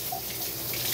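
A running dishwasher in a home kitchen produces a steady rushing water noise, close and constant for the full second, with no speech.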